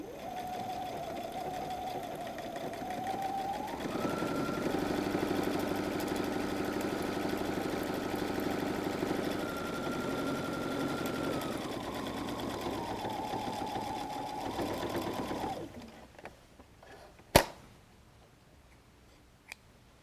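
A sewing machine stitches the fabric of a messenger bag in one long continuous run, a steady close mechanical whir that lasts about fifteen seconds and then stops, followed by a few faint clicks and handling sounds.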